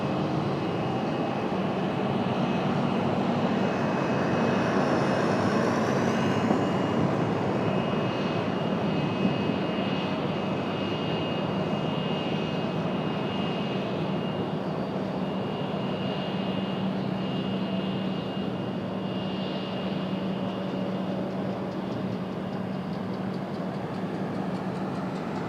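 A large airplane roars steadily through its landing at a busy airport, a broad continuous engine rumble with a faint whine on top, holding loud and even throughout with no talk.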